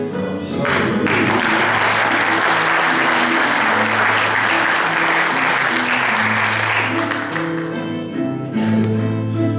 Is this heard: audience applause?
yes